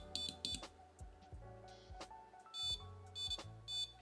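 A small electronic buzzer in a homemade fidget gadget beeps in short repeated bursts with uneven gaps, quiet and close, amid faint handling clicks.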